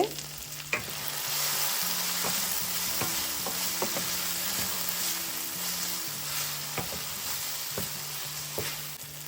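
Turkey berries fry in hot oil with tamarind and capsicum powder, sending up a dense, continuous sizzle punctuated by regular spoon-stirring clicks and scrapes, close and steady with no talking.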